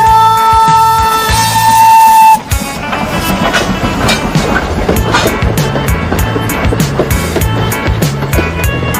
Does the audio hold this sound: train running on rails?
yes